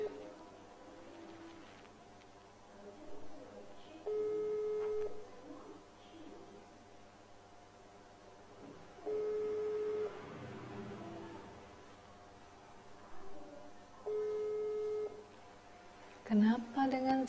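A telephone call gives a repeating tone, three steady single beeps spaced about five seconds apart, faint under a low hum, with brief murmured talk between them.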